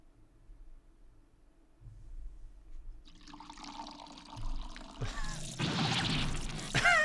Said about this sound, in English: You're pouring scalding hot tea all over me.